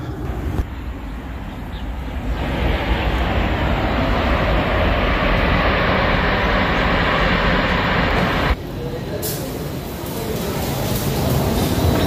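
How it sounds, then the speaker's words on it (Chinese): An airplane flies over near Huanghua airport in Changsha, a loud broadband roar that holds steady for several seconds before dropping sharply and fading away. "因为黄花机场就在这个附近，所以你经常可以看见飞机。"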